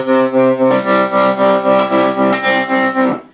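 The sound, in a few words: guitar amplifier tremolo effect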